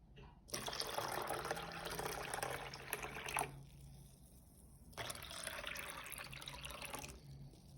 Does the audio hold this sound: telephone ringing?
no